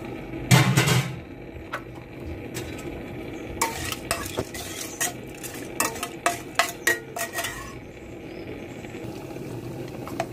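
Dried red chilies, cumin, mustard seeds, urad dal and curry leaves fry in cold-pressed oil for tempering, with a soft sizzle under clinks and scrapes of a spoon stirring against the pan.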